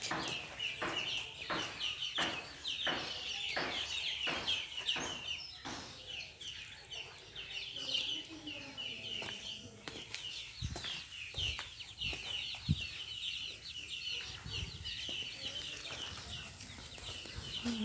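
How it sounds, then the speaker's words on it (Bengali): Chickens cluck and call near a house with a large cow farm beside it, a repeated rhythmic clucking early on followed by scattered bird calls and some rustling and thumps at moderate distance. "মুরগিগুলো দেখে দৌড় দিল"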